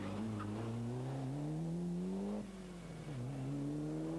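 Ford Sierra Cosworth rally car, the Group N leader, at full speed on a 1993 Rally Ypres stage, engine note climbing steadily, dipping briefly on a gear change or lift, then pulling hard again, close and loud throughout.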